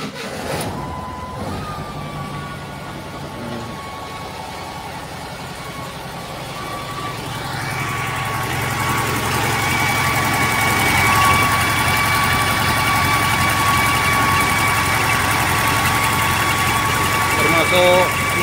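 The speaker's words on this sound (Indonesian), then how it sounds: "Termasuk normal tadi untuk mobil VW wagon, suaranya cuma seperti itu, kipasnya agak nyaring." A VW wagon engine starts and runs at idle, its steady hum rising as a loud, high-pitched cooling fan whines over it; a continuous close mechanical drone with a faint tonal whistle.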